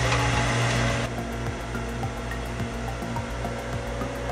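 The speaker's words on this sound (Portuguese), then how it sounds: "vou adicionar os lúpulos, ligar a bomba e ligar o sistema de Whirlpool" A pump and whirlpool system running on a home beer-brewing setup, a steady motorized hum with a whooshing mechanical whir that shifts slightly as it starts, continuous and close with no talk.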